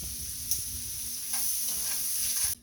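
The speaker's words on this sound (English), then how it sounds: "we'll keep rendering this out until this butter starts getting good and melted" Butter melting and sizzling in a cast iron pan after onions and mushrooms were cooked, a steady soft fizz with faint ticking crackles, close and fairly quiet, no voices.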